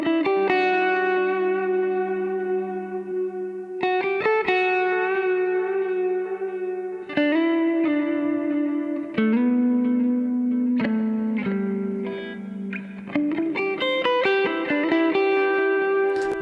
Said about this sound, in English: So what we get now is reverb on our delay signal